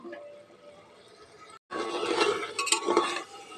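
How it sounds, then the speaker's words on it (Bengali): Spoon stirring a garlic egg curry in a pan of oil with a splash of water, scraping and clinking against the metal after a brief pause, with faint sizzling underneath. "এভাবে আমি নেড়ে দেব"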